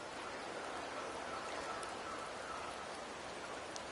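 Steady rain in the video game Septimont, a soft continuous patter and hiss that holds at an even level throughout, faint and close.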